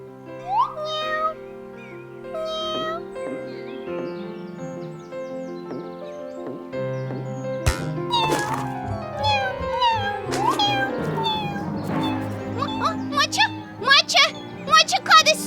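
A kitten meows several times in a children's story, its small cries mixed with gentle music and voices talking.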